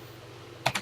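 A few quick keystrokes on a computer keyboard while entering a TI Basic program, three crisp close clicks coming right after a near-silent stretch.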